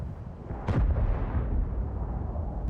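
A single tank cannon shot in a tank battle video game: a sharp booming blast followed by a long low rumbling tail over steady background engine noise.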